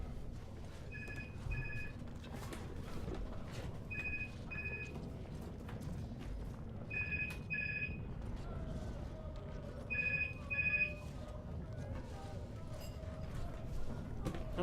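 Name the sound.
telephone ringing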